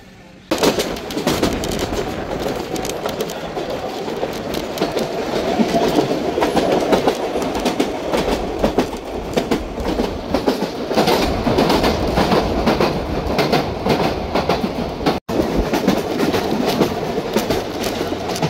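A century-old train runs from Palma to Sóller on Mallorca, giving a loud, steady rumble with rattling wheel clatter and a continuous cabin roar that drops out only for a moment.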